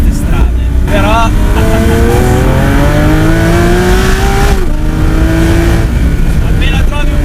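Lamborghini Aventador S engine accelerating hard on an open road, loud rising revs climbing through gears with a sharp shift partway, heard from inside the car with brief voices.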